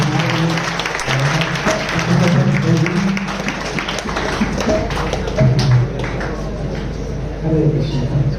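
Audience applause at a youth festival talk on bhakti yoga fills the hall as a steady, loud wash of clapping, with tonal music-like sounds and voices mixed in.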